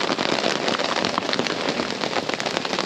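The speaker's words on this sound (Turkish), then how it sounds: "Düzgünce yağmur başladı." Rain falling steadily outdoors, a dense, even patter of drops on surfaces and fabric, loud and close with no pauses, and no voices.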